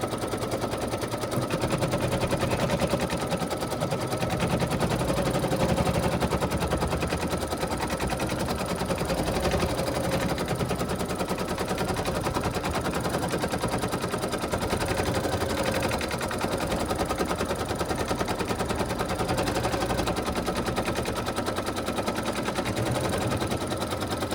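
An embroidery sewing machine stitches a gnome's body in a rapid, steady mechanical rattle that runs unbroken and fairly loud throughout.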